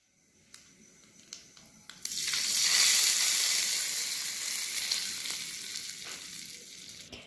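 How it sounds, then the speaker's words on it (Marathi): Stuffed masala green chillies fry in hot oil, a loud broad sizzle bursting in after a few light clicks and then holding steady with a slow fade, no voices. "बघा किती पटकन आपल्या मिरच्या तळून झालेल्या आहेत"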